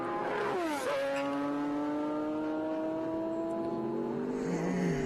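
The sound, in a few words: Porsche race cars accelerating up the back straight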